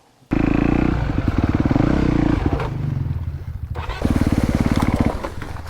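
A 2023 Honda CRF250RX dirt bike engine bursts into a loud, close, throbbing run, lugs unevenly and sags briefly before picking back up with a rough, pulsing idle, heard with no talking.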